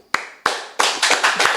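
A few sharp, close hand claps, starting sparse and quickening into a short burst of clapping from a small group in a podcast studio.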